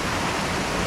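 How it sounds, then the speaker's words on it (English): Waterfall in a Jamaican Rasta village, a dense, steady rushing wash of falling water filling the whole moment at close range. "Beautiful waterfall."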